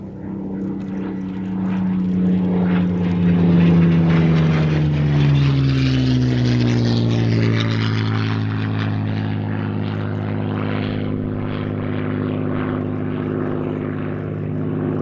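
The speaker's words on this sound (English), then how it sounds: "Now this very aircraft you're watching display now" A propeller plane flies a display at Sywell Airshow, its engine drone swelling loudly as it passes close with a falling pitch sweep, then fading into a steady distant hum.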